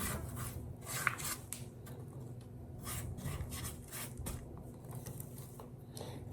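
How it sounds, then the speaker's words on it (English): A spatula scrapes around the side of a mixing bowl full of lemon blueberry pound cake batter, giving soft, repeated rasping strokes that are faint and close with no talk. "we're going to scrape the side of our bowl"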